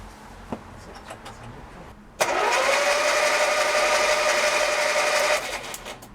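A Frogeye Sprite engine turned over on the key: after a quiet start, the starter motor whirs loudly and steadily for about three seconds, close by, then cuts off, no voices.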